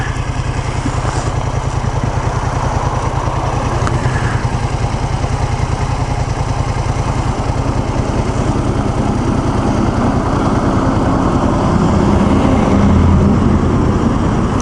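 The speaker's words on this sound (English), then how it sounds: "I'll just keep the engine running." Yamaha FZ-07 (MT-07) motorcycle engine idling while parked on a canyon road near Malibu, a steady, loud, close-up throb with an even rapid pulse, no talk.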